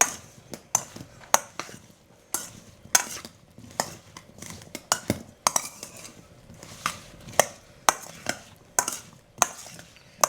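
Spoon scraping and clinking against a bowl while stirring vanilla sugar made with Bourbon island vanilla, with irregular sharp taps and scrapes close up and no talking.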